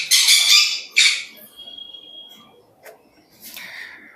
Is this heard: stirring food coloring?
no